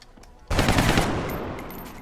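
Loud burst of automatic gunfire in the XCOM Long War strategy game, a sharp onset followed by a sustained rattling volley that slowly fades, alone without talk.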